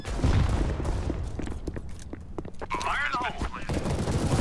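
Grenade blast in a first-person shooter video game, a loud burst amid dense gunfire and battle noise, with players talking over the chaos.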